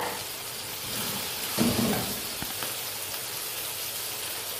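Green peas sizzling and hissing in a hot pan with oil, a steady soft frying crackle with a brief louder burst near the middle, heard alone at close range.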